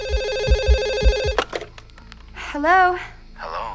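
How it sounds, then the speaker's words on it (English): A telephone in the horror film Scream rings several times in a steady electronic trill, then stops as a woman picks up and answers, her voice following alone. "until she gets a phone call from a stranger"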